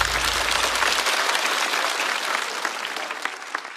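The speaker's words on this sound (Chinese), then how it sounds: "再次掌声送给张慧" Studio audience applauding a stand-up comedian at a comedy competition show, a dense, steady wash of clapping that carries on loud throughout, with a low rumble fading early on.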